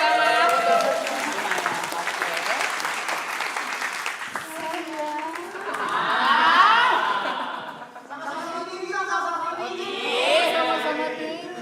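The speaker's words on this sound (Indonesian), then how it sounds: "Tepuk tangan dulu sekali lagi, tepuk tangan." Birthday-party guests clap for a 30th-birthday surprise, a lively mix of applause, chuckles and laughter with voices talking and calling out over the clapping throughout.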